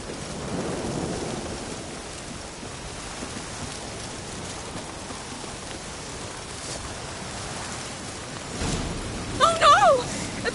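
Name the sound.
rain and thunderstorm in video game The Witcher 3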